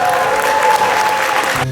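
Dense applause from a crowd at a Korean book launch event honoring a provincial council member, a steady loud wash of clapping that holds throughout and cuts off abruptly near the end.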